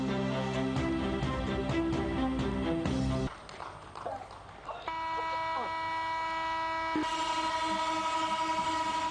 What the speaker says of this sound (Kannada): ಅಮೃತ್ ಭಾರತ್ ಯೋಜನೆಯಡಿ 2 ಎಕ್ಸ್‌ಪ್ರೆಸ್ ರೈಲು ಹಾಗೂ 1 ಪ್ರಯಾಣಿಕ ರೈಲು ಸಂಚಾರಕ್ಕೆ ಪ್ರಧಾನಿ ಹಸಿರು ನಿಶಾನೆ ತೋರಿದರು